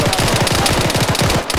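Sustained machine gun fire in the Arma 3 military shooter, a rapid, steady stream of loud, close shots filling the whole moment with no break.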